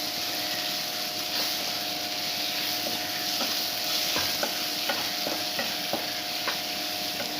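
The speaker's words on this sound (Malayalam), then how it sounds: "ഇത് നല്ലപോലെ ഒന്ന് വഴറ്റിയെടുക്കാം" Coriander powder is sautéed in a pan for a raw mango and mackerel curry, giving a steady low sizzle with scattered scraping clicks of a spoon stirring against the pan, close and alone.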